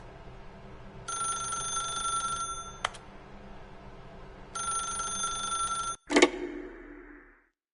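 An old-style telephone rings in The Stanley Parable in two long, loud ringing bursts with a short gap between them, then the receiver is picked up with a clattering knock and a brief fading rattle.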